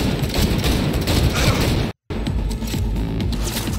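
Pistol shots in the video game Cyberpunk 2077 ring out loudly in quick succession amid gameplay noise, with a brief drop to silence midway before the firing resumes.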